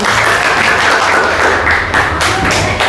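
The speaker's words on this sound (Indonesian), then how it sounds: "Beri tepuk tangan untuk kelompok 1." Applause from a group gathered in a classroom session, steady dense clapping filling the whole span with a few louder thumps near the end, heard close and without speech over it.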